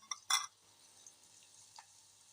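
Radish pieces frying in oil in a pan give a faint, steady sizzle, opened by a couple of quick utensil clinks and stirring knocks, then left hissing softly on their own.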